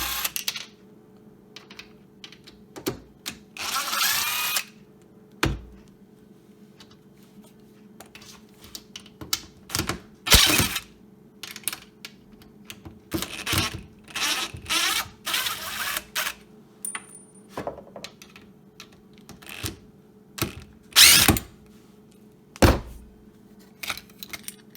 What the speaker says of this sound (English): you just want to take an impact driver and just unscrew it